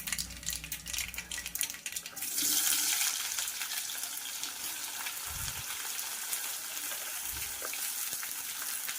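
Onions drop into hot oil crackling with cumin and mustard seeds for zunka, a loud rush of sizzle that settles into a steady close hiss with a couple of soft thuds, no voices.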